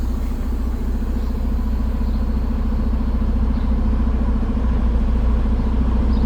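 A semi truck's diesel engine runs steadily in forward gear while held against its trailer brakes, a loud continuous low rumble with a regular mechanical throb and no let-up throughout.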